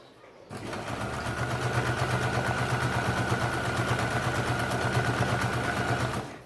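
A sewing machine runs steadily, stitching a straight seam on a market bag. The loud, continuous motor whir and needle chatter start after a brief quiet and carry on to the end with no talking.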